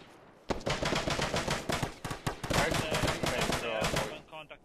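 Rapid bursts of loud, close gunfire from Arma Reforger in a Falklands battle, shots packed tightly together in a dense fusillade for about four seconds with no pauses.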